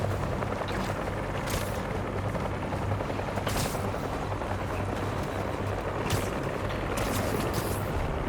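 Continuous helicopter rotor thrum with rhythmic chopping in the video game Marvel's Spider-Man 2, joined by occasional short bursts of gunfire-like crackles.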